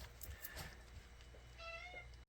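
A pet cat in a garage gives a short, soft meow close by, quiet against a low background hum, with a sharp click at the very end.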